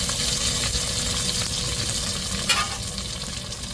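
Tomatoes and chillies sauté in a pan with onions and spices, a loud, continuous close sizzle broken by scraping stirs and an occasional clink of a spatula.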